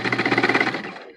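A sewing machine runs a top stitch across a fabric face mask, its needle chattering in a fast, even pulse for about a second before winding down, close and loud with nobody talking.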